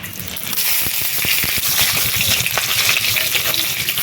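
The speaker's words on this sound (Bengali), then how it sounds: "তেল গরম হয়ে গেছে দিয়ে দিচ্ছি শুকনো গোটা লঙ্কা পাঁচ ফোড়ন তেজপাতা অল্প একটু পেঁয়াজ কুচি" Dried whole red chillies, panch phoron, bay leaf and a little chopped onion crackle and sizzle in hot oil in a kadai, a loud, steady frying hiss with small pops and scrapes throughout.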